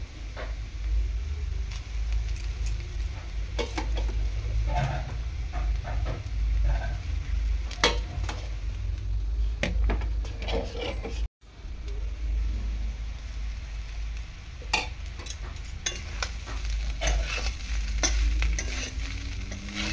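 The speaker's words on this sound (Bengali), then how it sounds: "এটাকে কড়াইয়ের মধ্যে দিয়ে, যেহেতু অল্প রয়েছে সেই জন্য আমি কড়াইয়ের মধ্যে দিয়ে মিক্সড করব" Cooked rice being stir-fried with vegetables in a small amount in a wok, giving a steady close sizzle with repeated scraping and stirring clatters throughout, one brief pause midway, no talking.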